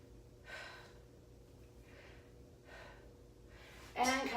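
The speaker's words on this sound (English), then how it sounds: "In through the nose, out through the mouth." Slow, deep breaths drawn in through the nose and let out through the mouth during a stretching workout, four soft airy breaths spaced about a second apart, faint and close, the last one louder.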